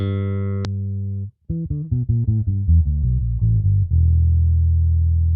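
A deep, muffled bass guitar holds a note, then plays a run of plucked notes, dark and rounded, with everything above 100 hertz filtered off by a DSM Humboldt Simplifier Bass Station.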